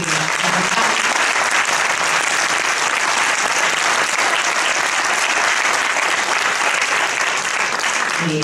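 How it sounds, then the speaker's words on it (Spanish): An audience at a book presentation applauds warmly and steadily, a dense, loud burst of clapping that holds without pause from start to finish. "les agradezco un aplausazo para los que"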